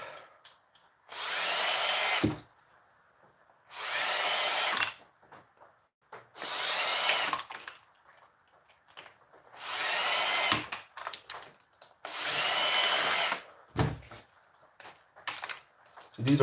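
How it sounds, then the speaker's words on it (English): A power drill backs screws out of scrap in five or six separate bursts of whirring, each a couple of seconds long, close and loud, with short quiet gaps and some faint handling noise between them. "The amount I can get through faster with the drill is crazy."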